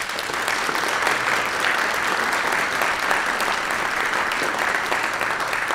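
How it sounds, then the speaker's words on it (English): A room at a chamber of commerce evening event applauds the kids, giving loud, steady, continuous clapping from a sizable crowd that holds evenly throughout, with no voices over it. "let's give a round of applause to our kids"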